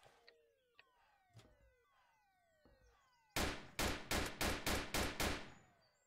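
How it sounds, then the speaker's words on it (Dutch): Gunfire in the Emergency Hamburg game: a rapid string of about seven loud, sharp shots fired close together near the end, following a few faint taps and falling electronic tones. "Er wordt hier veel geschoten."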